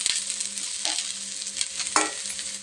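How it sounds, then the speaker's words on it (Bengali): Chowmein frying in a pan, with a continuous close sizzle broken by a few sharp stirring scrapes and clatters. No talking. "এখন এটা ভাজা হবে।"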